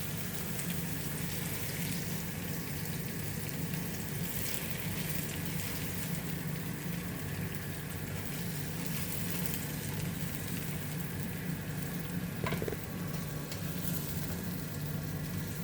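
Onions fry in a pan with pork marinade, giving a steady soft sizzle and crackle that continues unbroken, fairly quiet and close, with one brief clink near the end.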